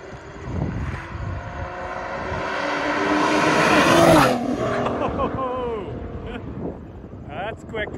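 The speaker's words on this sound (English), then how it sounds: "Oh, that's a quick drive-by right there." A fast car approaches and roars past near fields, engine noise swelling to a loud peak around the middle and then fading away as it recedes, with wind and some background voices.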